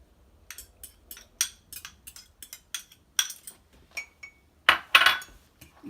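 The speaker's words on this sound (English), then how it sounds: "mix in your egg and butter mixture" A spoon or utensil clinks and scrapes against a bowl in uneven, sharp taps while dry ingredients for almond bread are mixed with an egg and butter mixture, close and sparse with quiet gaps.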